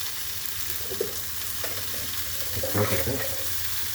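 Radish chutney ingredients with turmeric powder sautéing in a pan, a constant close sizzle with occasional scraping stirs, and a voice speaking briefly over it.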